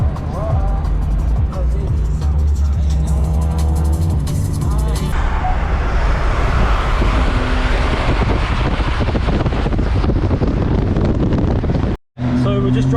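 Cars drive along a road through Belgium, a loud steady roar of engine and wind noise from inside a moving car that cuts off abruptly near the end.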